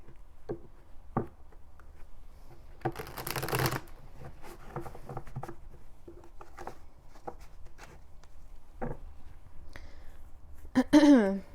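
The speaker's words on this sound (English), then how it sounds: "Sorry, these cards are hard to shuffle." Tarot cards are shuffled and riffled up close, with a longer burst of rapid flicking and scattered snaps and taps between.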